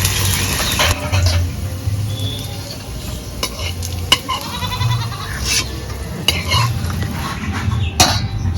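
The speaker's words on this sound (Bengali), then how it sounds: "মুখি কচুগুলোও ভেজে নেব" Mukhi kochu (taro) fries in a pan with a loud, continuous sizzle, punctuated by repeated stirring scrapes and metallic clinks of a utensil against the pan.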